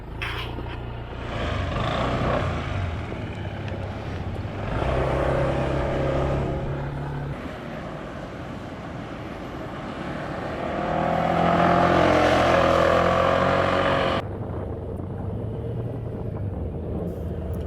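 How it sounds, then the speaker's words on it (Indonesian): Honda PCX160 scooter engine running and accelerating on a circuit with short tight corners, a steady near drone that swells and rises in pitch mid-way before dropping off, with no talk over it. "Mesinnya startnya halus banget."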